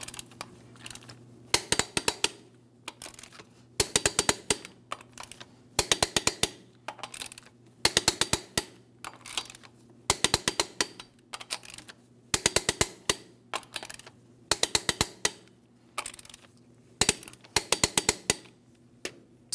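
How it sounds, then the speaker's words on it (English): A torque wrench tightens the lug nuts on a 2007-2014 GMC Sierra 2500 HD wheel to 140 foot-pounds in a crisscross pattern, giving a series of sharp rapid clicking bursts spaced about every two seconds, close and clear with no talking. "Let's go ahead and torque each of these lug nuts to 140 foot-pounds in a crisscross manner."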